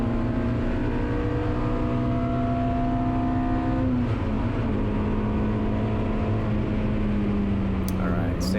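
A 1990 Mazda Miata race car with a K-swapped engine, held at full throttle on track, a loud continuous engine drone that steadies and shifts pitch midway, heard from inside the car, with a voice talking over it.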